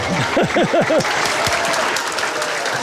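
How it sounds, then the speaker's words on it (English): An audience on a veterinary show breaks into loud, steady applause close by, with a brief whooping cheer rising over the clapping at the start. "Give them both a big round of applause."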